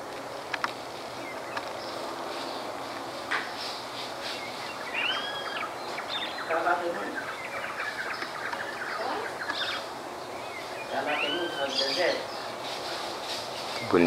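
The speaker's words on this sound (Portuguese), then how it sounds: "Tem uma outra qualidade de passarinho que estava cantando ali que eu nunca vi." Several bright, warbling songbird calls rise and fall over a steady outdoor background in Santa Elvira, Mato Grosso, Brazil, with a few chirps close by and others farther off.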